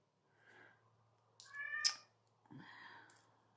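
A cat in heat meows three times indoors, soft then louder and drawn-out, the calls close but fairly quiet with silence between them.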